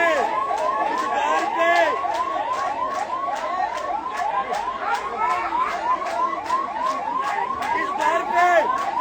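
An ambulance siren outside MY Hospital in Indore during a crowd protest, its rapid, rising-and-falling yelp repeating steadily throughout at moderate distance and fairly faint.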